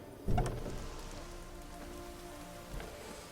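Steady rain patters on and around a house in The Witcher 3, a continuous wash of drips, with a brief sharper knock near the start and another toward the end, no voices.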